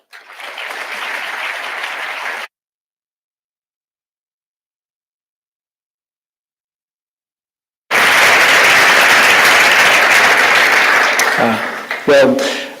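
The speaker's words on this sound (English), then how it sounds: "Please welcome him to the stage with a round of applause." Audience applause at a university presidential address welcoming the president to the stage, heard in two bursts separated by a stretch of silence, the second louder and ending with a few thumps.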